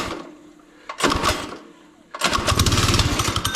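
Small gas engine on a drag kart in 20-degree cold, cranked with choke on: two short bursts of sputtering, then it catches and runs with a loud, steady, throbbing rev close by.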